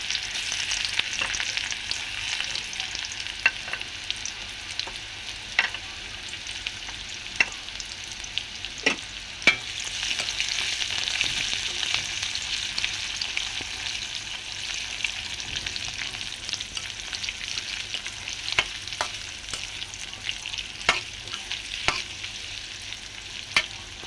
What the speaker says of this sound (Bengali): আমার তেলটা গরম হয়ে গেছে, এই যে আমি পেঁয়াজগুলি আর পাঁচফোড়নগুলি দিয়ে দিব।